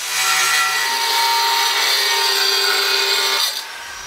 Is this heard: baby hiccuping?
no